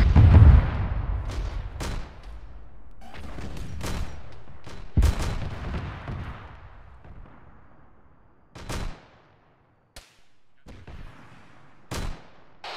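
Sustained enemy fire in the ARMA 3 Warhammer 40k mod: heavy booming shots and sharp cracks hitting at irregular intervals, loud and rumbling at first, then sparser bursts separated by near silence, with no talking.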